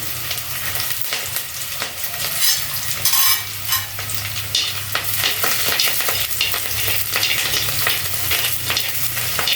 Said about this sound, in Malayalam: നമുക്ക് കുറച്ച് കരിയേപ്പില ഇട്ട് കൊടുക്കാം